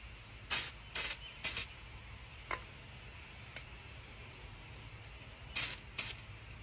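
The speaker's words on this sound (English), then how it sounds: "I'm going to spray it on the line." Line conditioner is sprayed onto fishing line in short hissing bursts, three quick sprays in a row, a pause with small clicks, then two more sprays, close and quiet.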